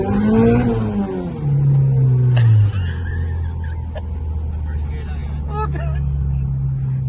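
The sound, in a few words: turbo Honda Civic accelerating in first gear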